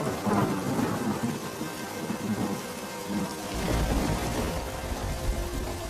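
Heavy rain pours down with rumbling thunder throughout a storm that collapses a house, the downpour steady and loud, the low thunder swelling stronger in the second half, with no voices.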